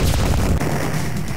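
Bombs exploding in an arcade video game, a brief dense, loud boom that fills the whole moment with rumbling blast noise.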